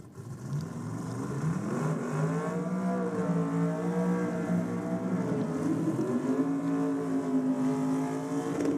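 Brad Anderson's twin-turbo big-block Chevy Commodore Ute roars down a drag strip, its engine note climbing and wavering in pitch as a sustained, loud drone that holds for several seconds.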